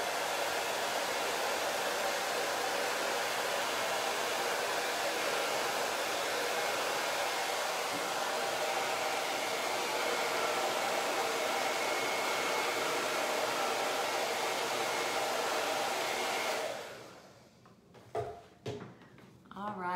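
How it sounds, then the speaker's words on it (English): A hair dryer blows with a loud, steady whoosh for most of the stretch, drying chalk on a sign, then cuts off, leaving a few brief clunks and handling noises. "Let me hit this with a hairdryer really quickly"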